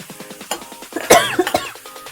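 Someone coughs repeatedly while cooking honey ginger chicken over a high flame: a run of sharp, close coughs and throat-clearing bursts in irregular succession, with no speech.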